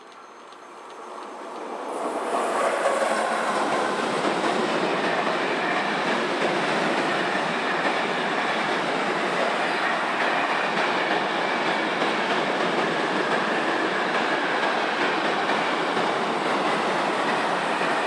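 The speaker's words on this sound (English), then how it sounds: "as Class 633 Electric number 215 heads north on a container train" A Class 633 electric locomotive hauling a northbound container train at Mignanego swells in quickly, then rumbles past steadily with continuous wheel and wagon noise at close range, no voices.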